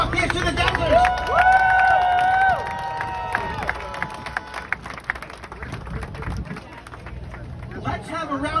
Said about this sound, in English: Let's have a round of applause before I get to our host.